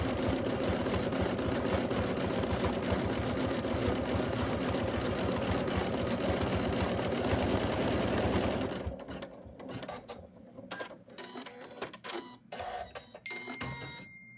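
An embroidery machine stitches an in-the-hoop Santa with a fast, loud, steady mechanical chatter for about nine seconds, then stops. Quieter clicks and handling taps follow.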